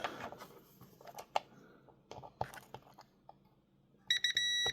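After some small clicks and handling noises, a multimeter's continuity beeper tests a fuse, sounding a close electronic beep in a few short bursts and then holding steady.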